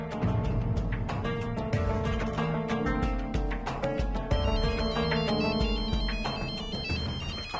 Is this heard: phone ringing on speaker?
yes